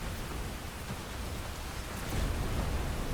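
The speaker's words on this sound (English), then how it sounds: "I love the rain." Rain pouring steadily in the mech tactics game Phantom Brigade, a dense hiss that swells slightly louder toward the end with a low rumble beneath.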